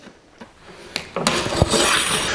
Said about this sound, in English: And we'll draw a line. Draw another line.